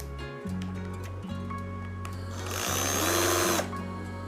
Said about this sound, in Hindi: इसे कर देते हैं हमर मोड में।